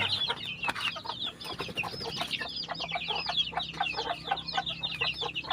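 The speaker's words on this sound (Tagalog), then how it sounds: "Yung ating alagang manok" Sixteen backyard chickens let out of their coop cluck and chatter continuously nearby, a busy overlapping flock with no one talking.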